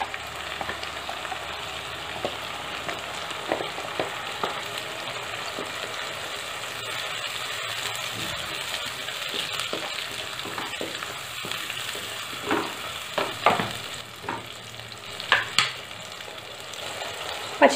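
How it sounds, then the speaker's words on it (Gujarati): Spiny gourd (kantola) curry sizzles steadily in a pan as it is sautéed and stirred, with occasional scrapes and clicks of a spoon, close and continuous, and a paste goes in. "તેને આમ આવી રીતે 1 મિનિટ માટે સાતડી તેની અંદર તરત આપણે જે પેસ્ટ બનાવેલી છે તે ઉમેરી દઈશું"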